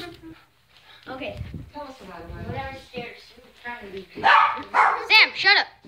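Several dogs bark indoors among people talking, with quieter yips early on and a run of loud, sharp barks near the end.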